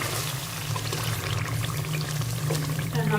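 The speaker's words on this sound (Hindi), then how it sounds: "अब हम ग्रेवी बनाने के लिए इसमें थोड़ा सा पानी" Water pours steadily into a pot of spiced, fried potatoes to start a gravy, a continuous close splashing trickle that ends with a brief gurgle.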